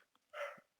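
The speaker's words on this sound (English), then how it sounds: "And that's my dog." A dog gives a single brief, faint bark or yip in a quiet room, close but soft and over in under a second.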